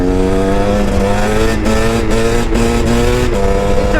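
A 2009 KTM 250 EXC dirt bike engine holds a loud, steady, buzzing drone in fourth gear during a wheelie, close and continuous with slight pitch wavers and brief dips.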